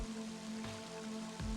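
Rain in the video game Mother 3, a faint steady patter of falling rain over a soft hiss with a sustained low tonal hum beneath it.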